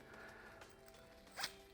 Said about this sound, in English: These little zippers open up so you can sneak this in there